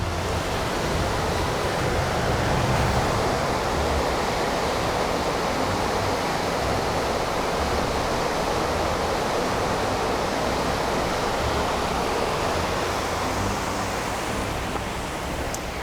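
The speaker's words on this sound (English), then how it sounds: "it's a 40-foot man-made waterfall over here" A 40-foot man-made waterfall tumbling over bobcat-placed boulders roars as a dense, constant rush of water, loud and close, unchanging across the clip with no talking.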